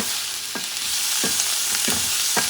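Puerto Rican salted cod stew ingredients with small scallop pieces being stirred in a hot pan: a constant hissing sizzle with a few soft scraping strokes of the spoon, close up.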